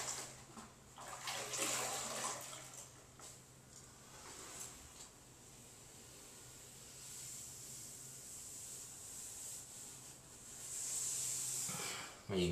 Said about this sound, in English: Rinse out our sponge really well.